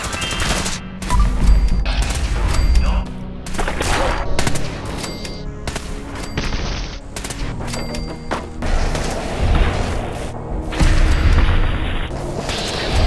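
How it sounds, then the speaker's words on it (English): Virgil's rifle, a unique weapon in Fallout 4, fires in a loud, continuous series of sharp gunshots and heavy booms, shot after shot with little pause across the whole stretch. "And here it is, Virgil's rifle in action."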